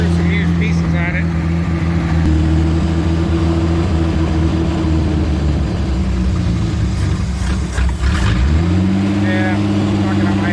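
A 1976 Mustang II Cobra engine, fitted with a carburetor built from used parts, runs loud and close and cannot hold an idle. It rises and falls in pitch and nearly stalls before catching again, with a voice speaking briefly.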